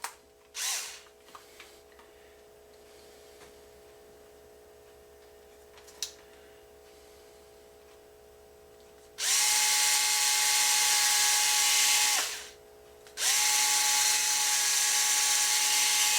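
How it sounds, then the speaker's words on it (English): A power drill bores holes in a Top Flite P51 ARF model plane part, two long steady high whirring bursts separated by a short pause, after a few faint clicks and a low background hum. "Now I can drill my other 3 holes."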